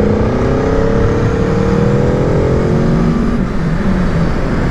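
Aprilia Tuono V4 motorcycle engine pulling steadily under way, a loud continuous drone with rising harmonic pitch as revs build past mid-range, heard up close from the rider's position over constant wind rush.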